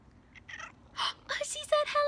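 A voice imitates a cat, giving a couple of short, rising meows toward the end, with quieter vocal sounds before them, as she greets a toy cat in a children's singing lesson about feeding animals.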